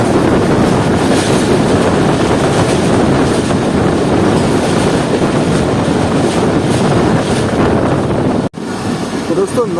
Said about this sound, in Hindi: अब शाह-लतीफ़ एक्सप्रेस पहुंच रही है जनशाही रेलवे स्टेशन पर।